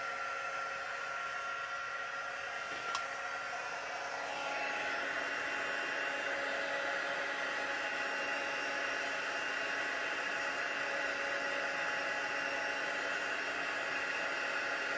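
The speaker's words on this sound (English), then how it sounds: "And we're going to heat set these now." A heat tool runs steadily to set embossing powder on a Stampin' Up! birthday card, a continuous loud airy whoosh that grows slightly stronger partway through, with no talking.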